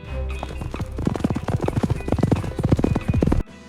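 A horse whinnies loudly with rapid hooves clattering underneath for several seconds, cut off abruptly near the end.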